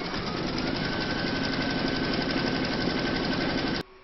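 An embroidery machine stitches fabric held in a hoop for a large Celtic topper, a dense, rapid, steady mechanical chatter that stops abruptly near the end.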